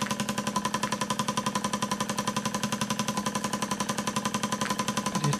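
A Wylie Harris steam engine with a wobbling flywheel runs steadily nearby, giving a fast, even mechanical chuff-and-knock rhythm that repeats throughout without pause.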